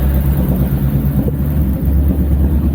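A Lexus SC400 idles steadily nearby with a low, even engine rumble and a softened power-steering hum, no voices over it.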